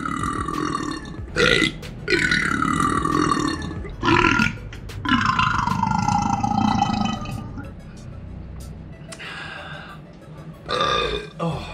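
Long, deep, gurgling burps from a person in a burping contest, several drawn-out belches in a row, loud and close, with short pauses between them.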